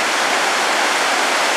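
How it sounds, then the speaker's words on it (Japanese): The Inumodoshi waterfall on a mountain river roars as a loud, unbroken broadband rush of falling water, close and constant throughout. "犬戻しの滝です。"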